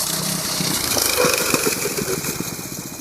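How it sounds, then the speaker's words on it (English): A Coleman CT200U trail bike engine drones and sputters in a field during a full-speed maximum braking test, a steady mid-range rumble outdoors with wind, close and fairly loud, no voices. "This is a maximum braking test at full speed."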